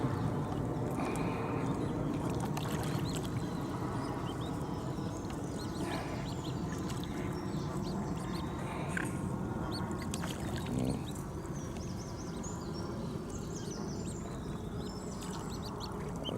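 Canada geese honking and calling at a pond with swans nearby, scattered calls mixed into a noisy outdoor background, fairly distant and faint.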